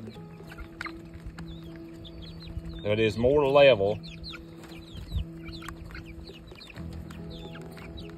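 Chickens in a chicken tractor, a mobile coop propped up on a downhill slope, cluck and chirp nearby while someone speaks briefly; one louder squawking call stands out midway over a low background hum.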